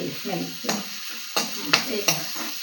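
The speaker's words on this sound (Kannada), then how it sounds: "ಈಗ ನೀರುಳ್ಳಿ ಅದಷ್ಟಕ್ಕೆ ಆರಾಮ ಫ್ರೈ ಆಗ್ತಾ ಉಂಟು" Sliced onions frying in a hot pan for mushroom sukkha, a steady close sizzle broken by several sharp scraping stirs of a spatula, with no voices over it.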